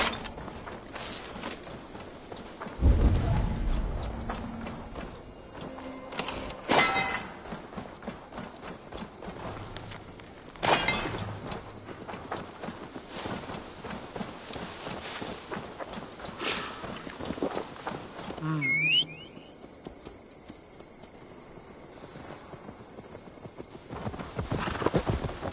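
Horse hooves clip-clop in Assassin's Creed Valhalla during a horse delivery, with scattered steps and heavier thuds over faint wind and ambient game sounds across a long stretch.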